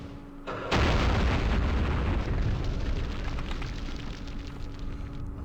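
Heavy mortar explosions in the Vietnam war game Campaign Series Vietnam, set at Dien Bien Phu: a sudden loud boom followed by a long, rumbling roar that slowly fades while staying strong, with no talk.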